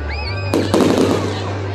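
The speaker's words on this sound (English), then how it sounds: "they're not rocket ships, they're fireworks" Canada Day fireworks bursting outdoors, a pair of sharp booming blasts about a quarter second apart with a crackling tail, under a steady low hum and faint distant whistles.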